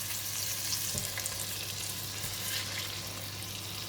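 A salmon steak fries in a non-stick pan, giving a steady, dense sizzle that holds at an even level from start to finish, close and loud with no voices.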